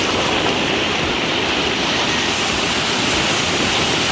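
Loud, steady rushing floodwater and waves roar continuously, a dense broadband wash like heavy surf or a torrent, with no pauses.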